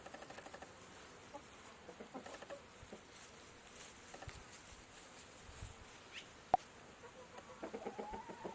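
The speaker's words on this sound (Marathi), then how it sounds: "कोंबड्याच कोंबड्या आहेत." Chickens cluck faintly in the distance, with short soft calls scattered over a quiet outdoor background of buzzing insects and light patter.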